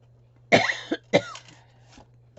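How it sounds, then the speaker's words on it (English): Two sharp coughs close to the microphone, followed by a smaller throat sound, over a faint steady hum. "My coughing."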